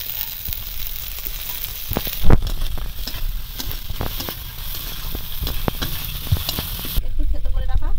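Chopped onion fries in a pan with cumin seeds in hot oil, giving a steady close sizzle with scattered crackles and pops and occasional stirring clatter.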